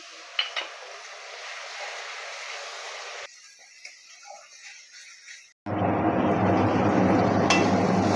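Water is added to spices frying in oil for a rohu fish curry: faint clinks and quiet kitchen noise, then a sudden, loud, sustained hissing sizzle.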